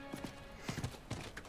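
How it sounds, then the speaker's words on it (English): Horse hooves clip-clop in the Diablo 4 video game, a brief, faint run of rhythmic hoofbeats. "I have been using my horse a lot"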